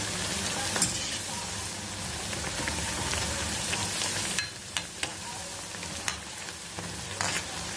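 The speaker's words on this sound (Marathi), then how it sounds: "आता हे छान असे गोल्डन रंगापर्यंत आपल्याला तळून घ्यायचे." Vadas deep-fry in hot oil until golden, a dense, loud crackling sizzle that drops to a quieter bubbling hiss partway through, with scattered clinks and pops.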